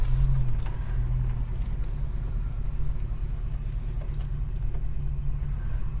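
Holden HK car engine running with a steady low rumble and drone throughout, fairly close and continuous with no talk.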